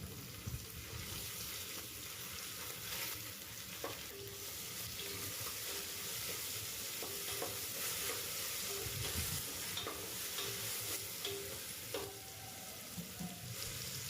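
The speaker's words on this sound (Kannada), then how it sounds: "ಟೊಮೊಟೊ ಎಲ್ಲ ಒಗ್ಗರಣೆಲೆ ಚೆನ್ನಾಗಿ ಬೇಯಬೇಕು." Chopped tomatoes sizzle steadily in a hot tempering for vegetable biryani, with a continuous low frying hiss and occasional clinks of stirring, close and moderately loud without any talk.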